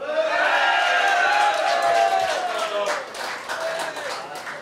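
A supporters' club crowd gathered ahead of a Fermanagh Gaelic football match erupts in loud cheering and shouting, then settles into sustained applause that fades slightly toward the end.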